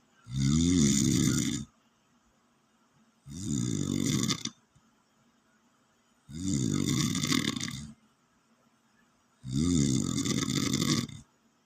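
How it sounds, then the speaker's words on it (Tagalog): Four long, loud snores repeat at a slow, steady rhythm, each a rough rattling breath separated by a few seconds of silence, close by. "tunog ng hilik niya."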